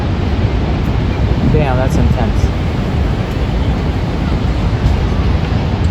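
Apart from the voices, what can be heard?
Niagara Falls waterfall roaring, boat nearby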